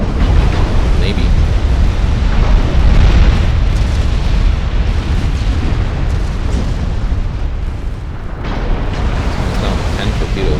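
Deep, continuous rumbling blasts of torpedoes striking warships in a naval battle game, loud and dense throughout with heavy low booms rolling together, while a voice talks over them.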